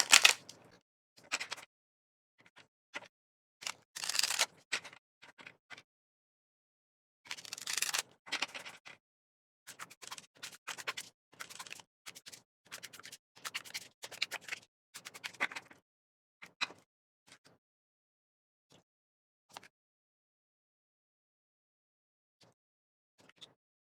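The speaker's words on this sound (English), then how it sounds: "I am going to give quite a good shuffle because I do think it's important." A deck of tarot cards is shuffled by hand in close, quiet bursts of crisp riffling and papery flicks, with pauses between them that grow longer and sparser toward the end, and no voices.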